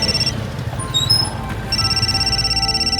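A telephone rings with a repeating electronic tone that sounds near and steady, broken briefly by a few higher chirps, in a household setting during a Hindi crime drama.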